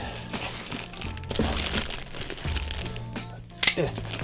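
Plastic wrapping crinkles and crunches in bursts while an SH Figuarts figure shipped by DHL is unboxed, close and fairly loud, with a sharper crackle near the end and a voice at times.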